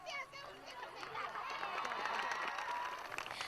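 Schoolgirls at a school cheer and celebrate together, a dense, excited crowd of young voices shouting and chattering with bits of applause, fairly close and sustained throughout.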